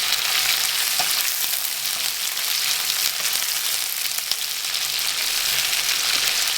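Onions dropped into very hot oil in a pan, frying with a loud, continuous, hissing sizzle close up, alone and without talk.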